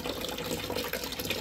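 Water drains from the filter of an LG washing machine into a recycled plastic whipped-topping tub, a steady close trickle and splash with no voices.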